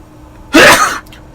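A single loud, sharp sneeze bursts out close by in a quiet setting and stops within half a second.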